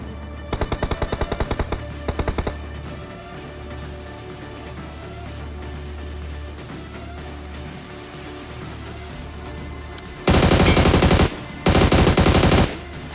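Rapid automatic gunfire from a shooter video game, loud and close, coming in several short bursts at the start and then two long sustained bursts near the end, with a steady low game hum running underneath.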